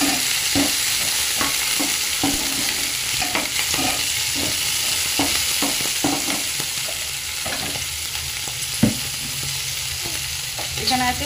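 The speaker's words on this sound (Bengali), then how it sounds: "হারা মটরটা কিন্তু খুব ফুটছে বাবা" Loud frying hiss of green peas in a pan for samosa filling runs without a break, while a utensil scrapes and knocks against the pan in an irregular stirring rhythm; nobody speaks.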